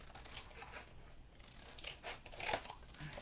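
Scissors snip the corners off paper while a Christmas organizer is being made, with several faint, quiet cuts and a slightly sharper snip near the end, followed by light paper handling.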